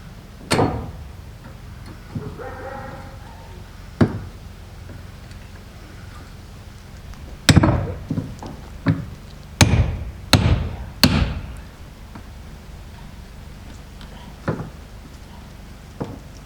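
Scattered hammer strikes on an off-grid house build, sharp isolated knocks spread unevenly across the stretch, some clustered in quick pairs, mid-distance against a quiet outdoor background.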